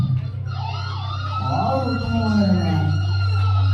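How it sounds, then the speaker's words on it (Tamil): An ambulance siren wails with rising and falling tones over a steady low engine drone, loud and close, growing stronger toward the end. "நீதிமான் ஆம்புலன்ஸ் பாருங்க."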